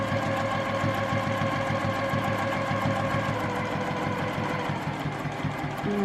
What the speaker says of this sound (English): And now we're just going to come around, and you're just going to stitch the whole way around.